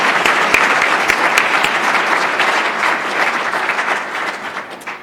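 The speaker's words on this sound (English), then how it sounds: "Please join me in a round of applause" An audience at a meeting gives a steady round of applause, dense and even throughout, with sharper individual claps standing out early and the sound easing slightly toward the end.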